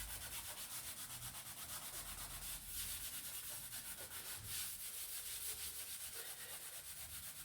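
Paint being rubbed off a surface by hand with hand sanitiser during a home refurbishment, a steady scrubbing rasp in quick, even back-and-forth strokes, close and continuous with no pauses.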